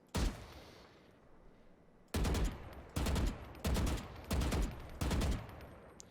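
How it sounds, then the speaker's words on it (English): Controlled three-shot bursts from a gun in Valorant: five or six sharp, loud bursts, each a quick cluster of shots, spaced about a second apart after an opening burst and a short pause. "You absolutely can just use your 3-shot burst, a controlled burst on your own, and do it."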